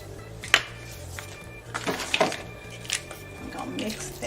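Sour cream is stirred into mac and cheese in a pot, giving a few sharp utensil clinks and scrapes against the metal plus soft squishy stirring, with a voice talking over it.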